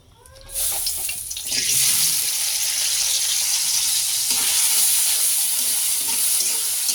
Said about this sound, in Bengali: এখন আমি সিম ভাজি করবো।